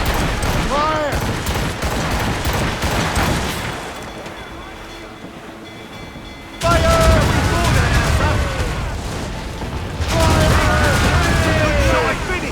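Naval battle in the video game Assassin's Creed Rogue with ship cannons firing broadsides, loud rolling volleys that arrive in bursts around sea wind and creaking hull, with voices calling out between the salvos.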